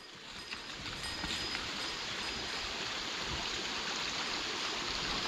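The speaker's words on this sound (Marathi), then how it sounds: "तर हे बघा आपल्या पाटाचं पाणी इथून येतं." Water from a two-kilometre-long irrigation channel in rainy Konkan rice fields rushes in a steady, broad, close hiss with no talk.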